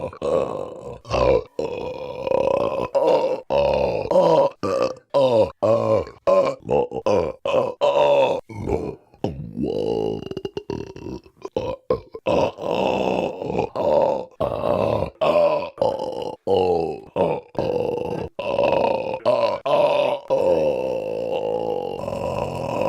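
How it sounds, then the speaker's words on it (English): A man grunts, groans and burps repeatedly in loud, drawn-out bursts, close to the listener, with vocal noises running almost continuously and few pauses. "this is making me burp like a motherfucker"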